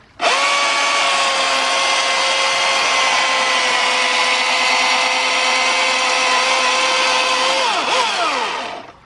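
An electric chainsaw cuts a log into lumber, running at a steady high whine for several seconds before the pitch drops and winds down at the end. The saw is loud and close, with no voices.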